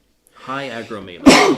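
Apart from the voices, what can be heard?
sneeze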